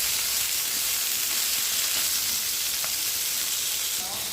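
Pointed gourd (potol) pieces with fried chilli sizzle steadily in hot oil in a pan, a dense continuous frying hiss close by with a couple of faint clinks.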